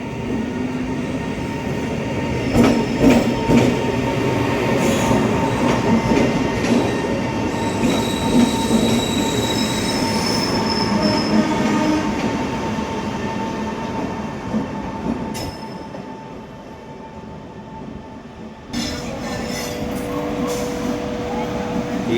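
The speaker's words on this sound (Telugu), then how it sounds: "ఎంజీఆర్ చెన్నై సెంట్రల్ నుంచి వెళ్ళి కేఎస్ఆర్ బెంగళూరుకి వెళ్ళే ట్రైన్ అనమాట అదైతే" An express train on the Chennai Central to KSR Bengaluru route passes close by, with loud rumbling wheels, metallic squeals and rail clatter. The roar fades briefly, then a new burst of wheel noise follows.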